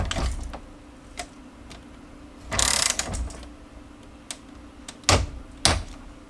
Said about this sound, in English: Now I'm going to switch over to a torque wrench. We're going to get this torque down to the proper specs.